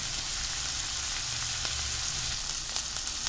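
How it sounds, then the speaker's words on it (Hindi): Onions frying in a pan for Mumbai-style kanda poha, a steady close sizzle with faint stirring clicks and no speech. "तो ये प्याज जो है हमारी ट्रांसलूसेंट हो गई है, थोड़ा सा भुन गई है।"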